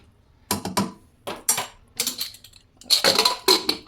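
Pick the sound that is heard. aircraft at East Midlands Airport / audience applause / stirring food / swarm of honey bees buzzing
stirring food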